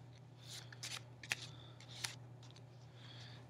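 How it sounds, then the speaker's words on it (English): Playing cards are shuffled off in small sections during a card trick, giving a series of soft, close riffling flicks and light snaps at an uneven rhythm over a quiet background hum. "you're just going to shuffle off sections of cards until you get to the break again"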